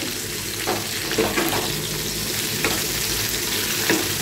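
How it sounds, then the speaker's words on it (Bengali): Cauliflower and potato pieces fry in oil with turmeric, giving a loud, constant sizzle close by, broken by a few soft scrapes and knocks as the food is stirred in the pan. "এবার একটু ভেজে নিয়ে"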